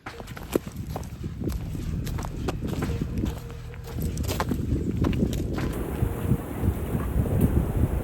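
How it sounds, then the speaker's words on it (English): Wind gusts blow through bamboo on a hillside trail near an air crash site in Thailand, giving a rustling, knocking texture with scattered sharp clacks. The sound is steady and moderately loud throughout, with no speech. "There are some really spooky noises up here, you know, the bamboo and the wind blowing."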